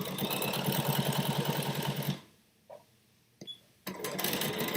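A sewing machine stitches in a rapid, even chatter for about two seconds, stops, then starts again after a short pause with small clicks in between.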